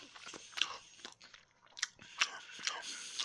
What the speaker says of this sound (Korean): 이래 씹는 거라고